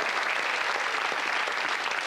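A television game show studio audience applauds in a dense, even, sustained wash of clapping that is heard alone throughout.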